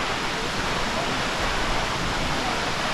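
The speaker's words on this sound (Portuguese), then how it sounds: "E lá está ela. A cascata do Chuvisqueiro." Steady roar of a waterfall, broad and constant, filling the whole clip with dense rushing water noise.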